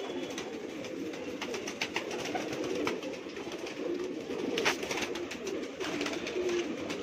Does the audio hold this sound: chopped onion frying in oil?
no